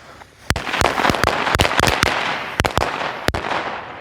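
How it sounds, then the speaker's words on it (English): A rapid string of sharp, loud Boomer brand Thunder Bomb firecracker bangs, quick-fused, pops irregularly over a crackling, hissing background in daytime, about a dozen reports in four seconds. "So we got some firecrackers."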